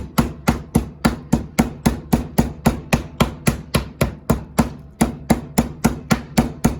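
A ruffed grouse breast is pounded flat for cordon bleu, with about two dozen steady, evenly spaced thuds at roughly three per second. The blows are close and loud, and there is no talk.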